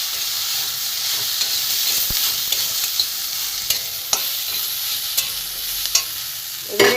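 Turmeric, tomato, ground coriander, cumin and grated ginger fry in a pan for a vegetarian chickpea ghugni, a steady close sizzle with a spatula scraping and clinking against the pan now and then.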